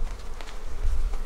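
A dense, continuous hum of honey bees fills a hive packed with bees and drone comb, near and steady.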